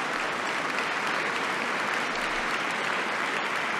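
Steady, dense applause from an audience in the video game The Lion's Song, a continuous even wash of clapping at moderate loudness with no pauses or voices over it.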